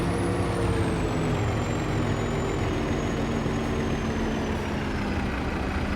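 A Kenworth truck with a Cummins engine runs steadily at a dirt-moving site, a constant low heavy drone with a faint high whine, steady loudness throughout.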